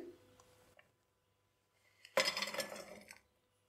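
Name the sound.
jaggery put into a cooking pot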